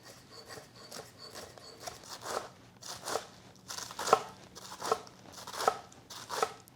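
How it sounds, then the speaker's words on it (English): A knife slices a head of romaine lettuce into chiffonade on a cutting board, crisp crunchy cuts falling in a steady, roughly even rhythm, close and fairly quiet with no talking. "Then we're gonna cut one more head of romaine lettuce in our chiffonade."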